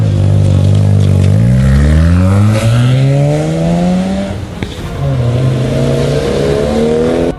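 Mazda MX-5 Miata sports car engine revving loudly and climbing through the gears, pitch rising repeatedly with brief drops between shifts, continuous and close with no talk.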